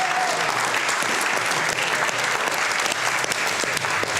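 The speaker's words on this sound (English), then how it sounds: "Can I ask for one more round of applause for the amazing Iris staff?" An audience claps steadily and densely for the Iris staff, a warm continuous round of applause that holds at an even loudness throughout.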